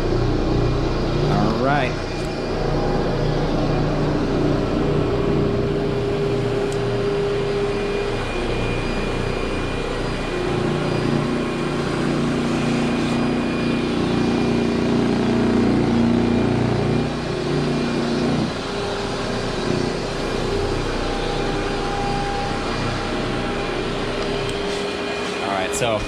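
An Orbot Vibe orbital carpet cleaning machine with encapsulant and a fresh pad runs in a continuous, loud mechanical drone for the whole stretch, with a person talking briefly over it.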